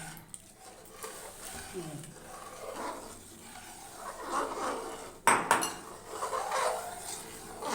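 A spoon stirs milk custard in a pot on the stove with soft scraping and occasional metallic clinks against the pan. It is moderately close, with a sharper clank partway through and a voice speaking faintly at times.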